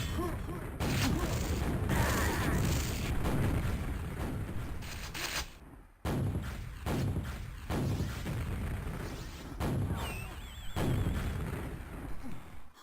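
Rocket explosions in a Quake duel match, a dense run of heavy booming blasts with sharp cracks, loud and close, continuous for most of the stretch with a brief break midway.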